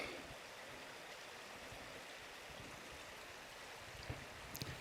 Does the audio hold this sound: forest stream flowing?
yes